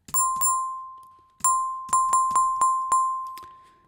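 A loud, heavily compressed FM synthesized bell patch struck repeatedly: two hits, a pause, then a quick run of five or six bright metallic dings, each with a clipped, flattened sustain.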